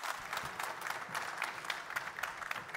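Audience at a partners and sponsors conference breaking into steady applause, a dense, even wash of many hands clapping throughout at moderate volume, with no voices over it.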